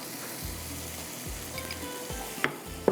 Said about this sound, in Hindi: यहाँ पर डलेगी राई 1 चाय का चम्मच